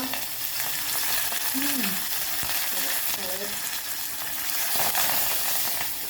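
Curry leaves sizzling in hot oil for a tempering, a steady crackling frying hiss with small pops, close and continuous.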